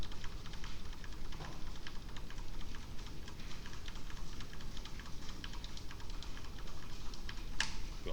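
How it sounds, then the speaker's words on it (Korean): Computer keyboard keys pressed repeatedly to jump between Ctrl+Home and Ctrl+End, giving a steady run of light, close clicks and taps over a soft background hiss, with no talking. "컨트롤 누른 상태에서 홈 엔드에 왔다 갔다 해보세요."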